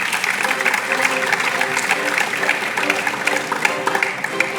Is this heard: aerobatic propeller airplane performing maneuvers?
no